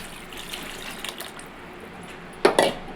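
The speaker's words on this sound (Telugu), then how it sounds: "ఒక గ్లాసు వాటర్ వేసుకోండి" A glass of water splashes briefly into a murrel fish tamarind curry in a pot, a short gushing pour near the end after a quiet background.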